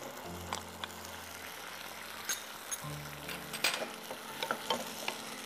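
Shiitake mushrooms being stir-fried in a pan for a vegetarian dish, with a steady low sizzle and scattered clicks and scrapes of a utensil stirring against the pan, close and moderately quiet.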